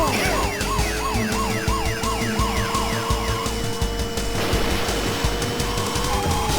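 Police car siren in the Turbo Out Run arcade racing game, a rising and falling wail that repeats steadily over continuous engine drone and game music, loud and sustained throughout.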